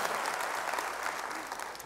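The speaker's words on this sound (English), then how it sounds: "we can applaud my dad, absolutely." A church congregation applauding during a service, steady dense clapping from many hands throughout, fairly close and even in loudness.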